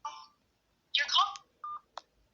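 A telephone dials in short electronic touch-tone beeps, a few separate tones with gaps between them, faint and close. A brief burst of voice comes in between.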